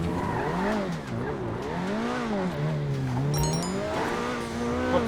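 A bulletproof car in a video game drives with a wavering engine tone and tires squealing through turns, steady and fairly loud, with a short high chime partway through.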